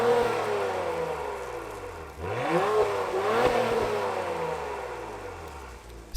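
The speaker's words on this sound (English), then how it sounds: "the Type S has a standard active exhaust system to increase volume inside of the cabin" A 2021 Acura TLX Type S sport sedan revs up and down through its active exhaust with a throaty note, rising and falling in pitch, heard from outside the vehicle.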